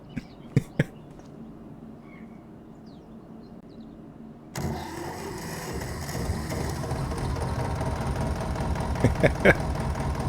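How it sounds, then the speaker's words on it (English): A Zetor 25K single-cylinder tractor engine idles with a steady low chugging rumble that starts partway through, preceded by quiet ambience and a few sharp clicks, with a few more clicks near the end. "how I love these one piston engines"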